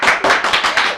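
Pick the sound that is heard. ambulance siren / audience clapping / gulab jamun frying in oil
audience clapping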